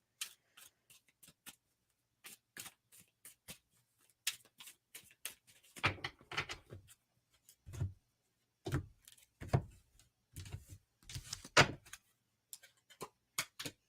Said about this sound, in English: Let's do a shuffle and see if she can get out of this craziness.